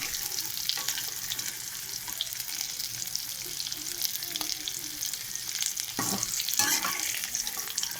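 Cauliflower frying in oil in a pan, a continuous close hiss and crackle of sizzling with a few scraping stir sounds, steady throughout with no talking.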